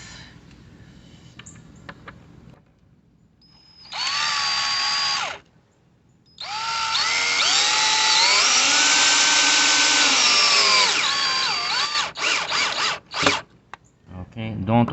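A power drill drives screws into a wooden planter, with sustained whirring bursts, a short one then a longer one that rises and falls in pitch, followed by clicks and taps nearby.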